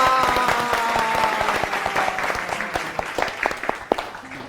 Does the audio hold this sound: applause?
yes